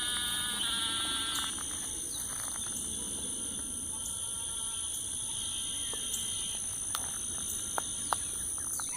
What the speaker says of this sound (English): Notice they're at different pitches. I can't see the frogs,